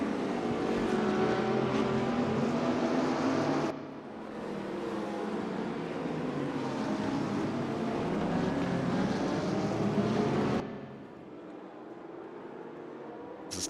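Racing cars, including a blue Audi and a green Porsche, roar around the track during a RaceRoom esports race, with a sustained loud engine drone that shifts and drops off as cars pass, and no voices.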